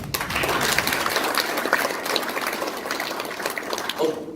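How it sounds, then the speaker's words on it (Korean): An audience applauds the association presidents seated at the front of a liquor wholesale industry talk, a steady wash of many hands clapping at moderate volume for about four seconds, with no voices rising above it. "앞에 계시는 우리 협회장님들한테 박수 한번 주세요"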